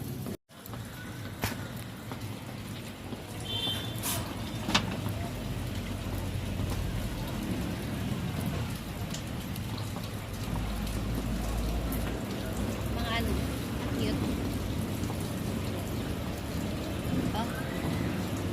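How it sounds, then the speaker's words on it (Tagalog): Steady rain pours down and patters across surfaces, with a faint voice and occasional clatter underneath. "Kahit tila ito diligan, ayan, diligan naman na ng ulan."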